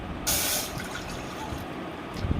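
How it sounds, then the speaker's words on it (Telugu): A short rushing pour of water into a pan of wheat semolina starts suddenly, then fades into a low murmur, with a faint drip near the end. "ఒక కప్పు గోధుమ రవ్వకి four cups of water add చేయండి"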